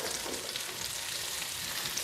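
Cut-up andouille sausage frying in a pan gives a steady, dense sizzle that runs evenly throughout, close and moderately loud, with no voices.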